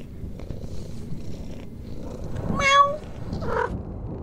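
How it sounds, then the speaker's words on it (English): A cat meows twice in a room near a door, a clear, fairly close meow followed by a shorter, softer one, over low background noise. "Oh, there's a cat!"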